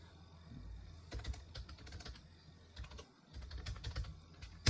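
Fingers type on a computer keyboard, loose clusters of quick plastic key clicks with short pauses, close and fairly quiet.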